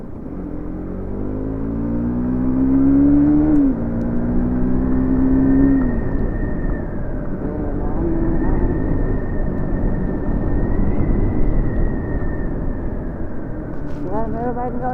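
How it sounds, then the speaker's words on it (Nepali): A motorbike on a village road lacking pickup revs and accelerates up close, its engine rising in pitch in repeated surges with wind rumble, while a rider talks over it. "यार मेरो बाइकमा अलिकति पिकअप चाहिँ डेट छैन यार"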